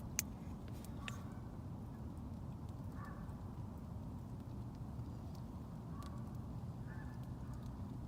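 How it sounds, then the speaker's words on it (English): Faint geese honk a few times in the distance near a river at a cold wild campsite, spaced several seconds apart, over a steady wash of background noise. "I don't know if you hear geese."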